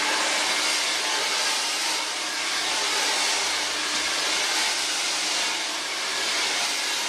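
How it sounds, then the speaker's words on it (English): A hair dryer blows loudly and steadily at close range, drying and lifting a child's hair over a brush, with a constant airy roar and no pauses. "I can put the hair on top of the hairbrush and just blow dry it up for extra root lift"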